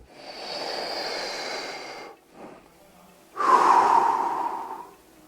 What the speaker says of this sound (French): Une autre respiration.